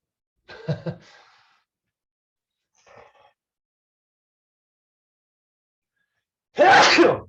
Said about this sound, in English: am I gonna sneeze?